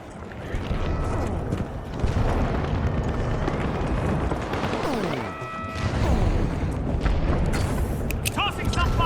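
Repeated deep booms and crumbling debris from frag grenade explosions in The Finals, loud and continuous amid chaotic game effects, with voices shouting over the din.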